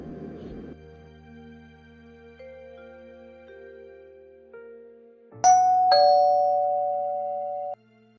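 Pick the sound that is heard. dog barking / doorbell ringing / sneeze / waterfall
doorbell ringing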